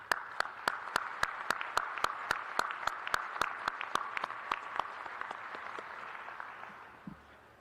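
Crowd at a university spring commencement applauding graduates' parents: a sustained wash of many hands clapping at moderate distance, with a few sharper individual claps standing out, tapering off toward the end.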